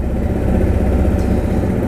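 Motorcycle engine idling to warm up, a loud, close, steady low rumble that pulses slightly throughout with no voices.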